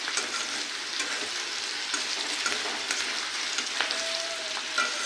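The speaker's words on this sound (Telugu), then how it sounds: "మళ్ళీ కలుపుతున్నాను." Food frying in a pan gets stirred again, with a steady close sizzle and crackle running throughout, broken by light scraping of the spoon.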